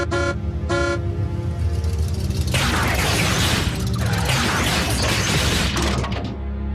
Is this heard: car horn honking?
yes